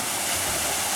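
Waterfall beside an old abandoned hacienda, a steady broadband rush of falling water pouring without pause, loud and close, with no voices.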